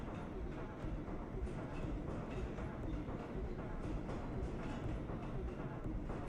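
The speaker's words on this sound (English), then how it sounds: "Kind of lost in the sound of the subway car." In a video game, a subway car rides the rails with a steady, faint rumbling roar and soft rhythmic clacks of wheels over track joints, continuous throughout.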